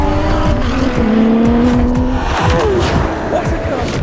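A Lamborghini Urus SE SUV engine roars loudly and steadily, its pitch rising and shifting as it accelerates hard, with a voice speaking over it.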